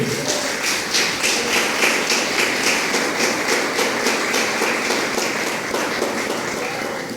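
A church congregation applauds loudly and continuously, with many hands clapping in a steady, dense rhythmic patter that holds throughout and tapers slightly at the end.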